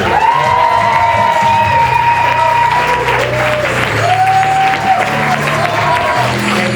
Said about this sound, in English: Clap very loud for Dad Haber